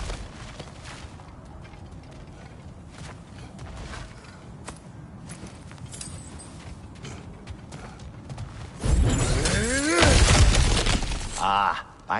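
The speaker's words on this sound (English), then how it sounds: "Ah, back to smashing through things for fun and profit." Smashing through a cracked patch of ground in the God of War video game: a sudden loud burst of crumbling, shattering debris arrives late, after a stretch of low ambient game sound and footsteps.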